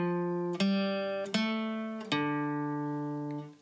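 Guitar picking the opening notes of the O Canada melody as single plucked notes, three clear attacks with long ringing decays, close and solo with no talking.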